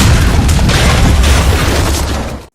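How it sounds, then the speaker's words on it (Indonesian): A bomb thrown by a killer goes off in a thriller film, a loud, sustained broadband blast with deep rumbling low end that fills the whole moment before trailing off at the end. "Kemudian si pembunuh menemukan Kate dan melempar bom."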